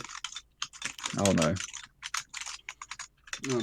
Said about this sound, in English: Oh no, he's typing.